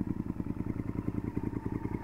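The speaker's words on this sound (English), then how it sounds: "The Devil exhaust has a nice rumble to it." Close up, the 2002 Honda VTR 1000F Superhawk V-twin fitted with a Devil exhaust idles in a deep, throbbing rumble, loud and steady with a rhythmic, uneven beat.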